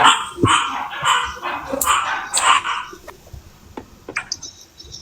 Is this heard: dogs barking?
yes